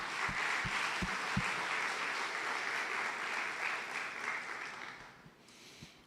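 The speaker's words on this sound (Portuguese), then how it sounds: "Pode aplaudir mesmo." A church congregation at a Portuguese-language family worship service applauds together, giving a broad, sustained wash of clapping from the start that thins and fades slightly near the end.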